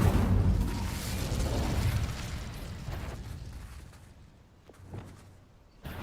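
The Incendio fire spell in Hogwarts Legacy, a loud rumbling blast that swells at once and then slowly fades, followed by a couple of softer pops, with no voices.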